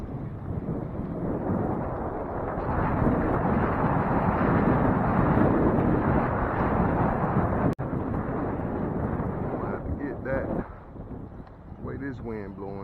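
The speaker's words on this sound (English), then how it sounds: "This wind blowing." Strong wind roars outdoors in the Carolinas, buffeting the microphone in a loud, continuous rumble that eases slightly near the end as a voice briefly comes through.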